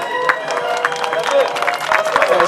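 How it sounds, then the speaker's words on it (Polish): Crowd applause for fighters at a one-handed sword combat tournament final, a short burst of clapping and cheering mixed with a voice speaking over it. "Wielkie brawa dla zawodników."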